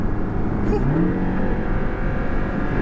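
A Porsche 718 Cayman sports car engine revs up loudly and steadily, rising in pitch over a continuous close engine roar.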